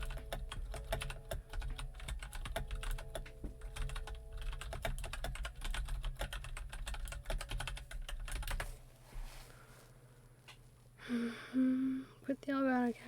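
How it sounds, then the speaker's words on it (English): A computer keyboard is typed on rapidly and close to the mic, a dense clatter of keystrokes that stops partway through, after which a voice talks briefly. "ignore the keyboard noises for a second"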